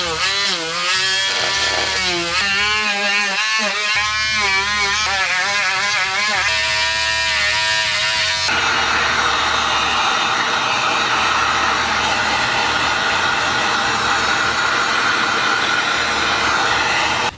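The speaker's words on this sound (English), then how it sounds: "go over the heat gun to heat seal the piece and also reduce some of the roughness a little bit" A heat gun used to heat-seal EVA foam pieces for a helmet build, a loud steady blowing whir with a shifting pitch early on, then a constant roar to the end.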